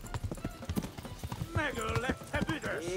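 Horse hooves clip-clop in a quick, uneven rhythm as a horse runs in the medieval video game Kingdom Come: Deliverance, with a voice talking over the hoofbeats.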